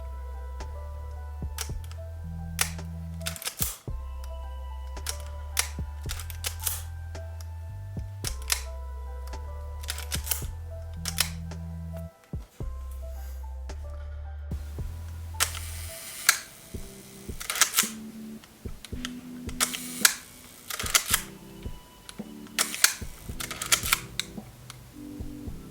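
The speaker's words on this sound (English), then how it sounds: "The electronic shutter in this camera is stupid accurate." Repeated electronic shutter clicks from a Leica M7 35mm film camera, sharp mechanical snaps at irregular intervals over a whirring motor hum, close and distinct, some firing in quick bursts.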